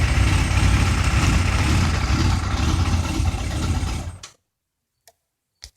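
A motorcycle engine keeps running steadily with a loud, even idle that will not shut off, then cuts out abruptly, leaving silence broken by a few faint clicks.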